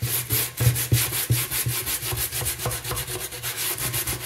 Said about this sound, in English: I'm kind of wishing this wasn't as gritty a sandpaper as I'm using